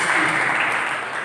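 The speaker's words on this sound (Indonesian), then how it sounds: "Mari kita berikan tepuk tangan bagi Yesus Kristus" A church congregation claps together during an Easter service, a dense, close wash of applause that holds steady and fades slightly toward the end.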